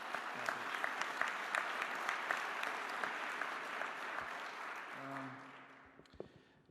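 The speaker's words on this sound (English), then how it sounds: "So please give them one more round of applause for their efforts." An audience at a governors' summer meeting opening ceremony gives sustained applause for performers, a broad steady wash of clapping that thins out and fades at the end as a voice begins.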